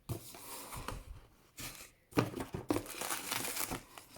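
Packing paper crinkling and rustling during the unboxing of a craft supply order, in several close bursts of handling with short pauses between them.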